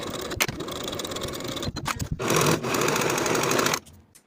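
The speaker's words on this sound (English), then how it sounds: "Now we can sew the peplum to the front bodice piece with a 5/8 inch seam allowance" A sewing machine stitches a peplum to a front bodice piece along a 5/8 inch seam, running in close, steady bursts with brief breaks before stopping near the end.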